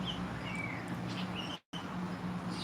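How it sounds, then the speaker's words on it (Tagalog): Many birds call faintly from tambis fruit trees outdoors, giving scattered high chirps over a steady background hiss, with a brief break in the sound partway through. "Tsaka maraming ibon doon"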